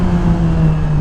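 Exhaust of a 2007 Yamaha YZF R6 motorcycle on a mountain road during a rev-matching downshift, a loud close engine drone holding a low steady pitch for about a second.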